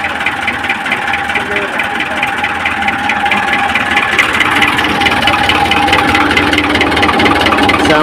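A Model 640 tractor engine idles steadily and loudly at close range on a farm in Punjab, with a constant droning rumble throughout and voices talking over it.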